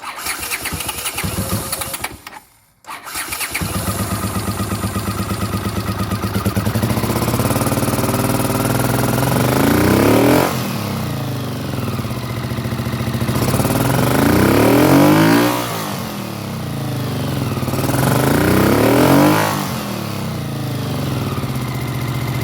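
Small engine fitted with pod filters running loud and close, sputtering briefly near the start and then revving in slow, sluggish swells as the throttle is opened, with no talk over it.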